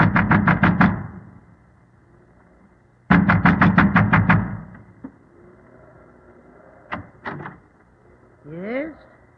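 A man in an oilskin and huge boots pounds at a windmill door in two loud bursts of rapid, heavy knocks, followed by scattered thumps and faint creaks in a radio drama setting.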